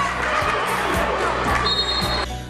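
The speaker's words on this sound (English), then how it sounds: "The crowd goes crazy." A basketball crowd roars and cheers loudly and continuously after a made shot, with a few rhythmic thumps beneath and a bright whistle-like tone near the end.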